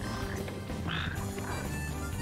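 Frogs croaking in the Final Fantasy XV video game, a steady throaty croaking chorus heard close and continuous against a dense ambient background, with no talking.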